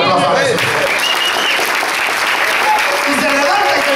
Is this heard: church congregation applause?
yes